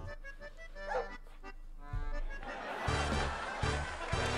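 A dog in a video game gives short, quiet yips and barks, joined by other game sounds and music that grow busier toward the end.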